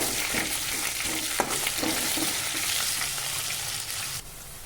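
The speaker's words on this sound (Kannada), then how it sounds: "ಈಗ ಸ್ವಲ್ಪ ಸ್ವಲ್ಪ ಫ್ರೈ ಆಗಬೇಕು ಬೆಳ್ಳುಳ್ಳಿ" Garlic frying in a pan of hot oil while making drumstick (moringa) fry, giving a dense, steady sizzle with a few soft clicks of stirring, close and continuous.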